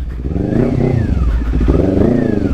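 A Kawasaki 400cc motorcycle pulls away in first gear, its engine rising in pitch in two close, loud surges with a gritty, clattering rasp.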